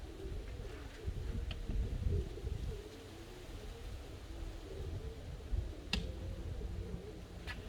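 Pigeons cooing inside a box, a close, continuous murmur of overlapping low coos with a few soft clicks and rustles, heard alone without any talk.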